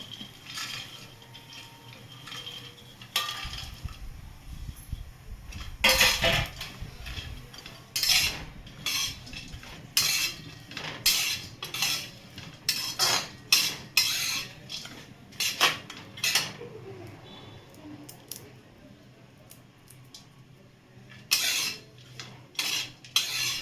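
Cashews and walnuts being dry-roasted in a pan for dry fruit ladoo, stirred with a metal spoon that clinks and scrapes against the pan in irregular bursts, with a soft rustle of nuts between the knocks and no speech.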